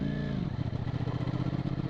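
A Ducati Streetfighter V4 2020 motorcycle engine lugs in sixth gear at about 30 km/h, a low rhythmic juddering pulse heard close and steady, alone for under two seconds.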